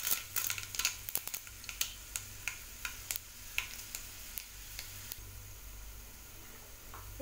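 Chana dal hisses and sizzles as it fries in hot oil for a ladies finger stir-fry, with a steady low crackle broken by frequent sharp ticks and pops from the pan.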